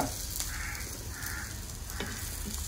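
Avarekalu field beans roasting in a pan, a steady close sizzle and crackle with soft scraping strokes of stirring throughout.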